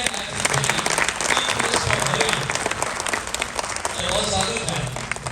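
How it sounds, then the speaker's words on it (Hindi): Loud, sustained crowd applause fills a political rally in Haryana, steady clapping with cheering swells rising and falling over several seconds. "जोरदार तालियां हो गए।"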